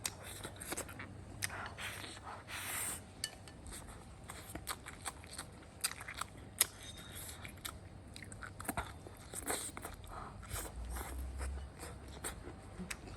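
Close, crunchy chewing of chili peppers dipped in more chili, with irregular soft bites and mouth noises running throughout at a quiet level, no talking.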